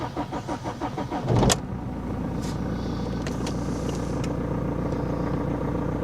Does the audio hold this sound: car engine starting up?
yes